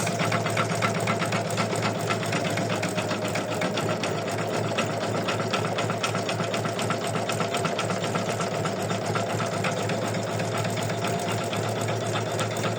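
An embroidery machine stitching an in-the-hoop "It is well with my soul" bookmark design, running steadily and continuously with a dense, fast, even mechanical whir close up, no pauses or voices.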